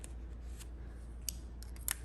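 Quiet snips of scissors cutting paper at a planner, a few sharp isolated clicks, the last two in quick succession, over faint room hum.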